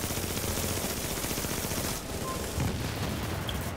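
Dense, continuous automatic gunfire in a video game, a sustained rattling burst of shots heard close and loud, with a momentary dip in the middle before firing resumes.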